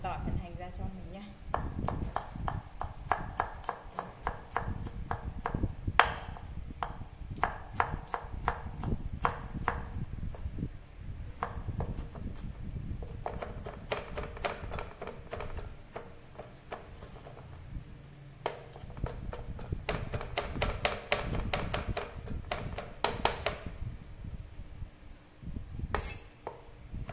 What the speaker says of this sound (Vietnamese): Băm nhỏ phần tỏi phần hành ra cho mình nhé.